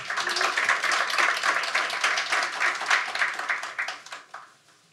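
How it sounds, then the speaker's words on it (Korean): An audience at a launch ceremony for a restorative-justice teachers' campaign applauds to welcome a guest representative onto the stage, dense steady clapping from many hands that thins and fades out toward the end. "저희 박수로 모시겠습니다"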